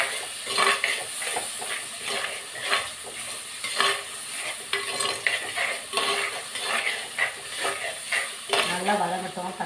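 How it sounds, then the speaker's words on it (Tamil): Two chopped ripe tomatoes sauté in a pan for a masala bitter gourd kulambu, with steady soft sizzling and repeated scraping, stirring strokes of a utensil against the pan, close and moderately loud throughout. "அதையே போட்டு நல்லா நம்ம வதக்கிக்கணும்."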